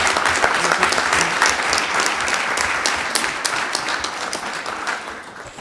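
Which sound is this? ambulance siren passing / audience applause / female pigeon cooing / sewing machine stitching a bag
audience applause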